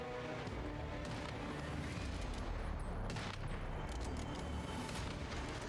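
Gunfire in the survival shooter Once Human: a dense, continuous barrage of shots and booms, loud and steady throughout, with no talk over it.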